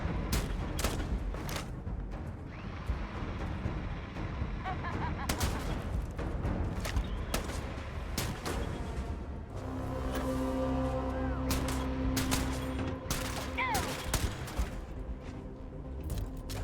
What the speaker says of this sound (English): It's a nail gun